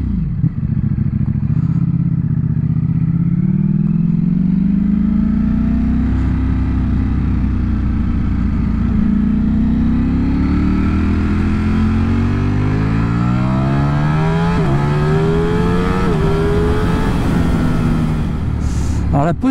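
A Ducati Streetfighter V4S roadster's engine revs up close and loud, its pitch climbing and falling in repeated throttle blips over a deep exhaust rumble.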